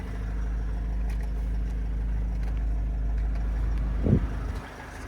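A 2010 Renault Trafic 2.0 van engine idles steadily with a low, constant hum; near the end the air conditioner switches on, a brief rising whir cuts in and the engine note drops slightly under the load.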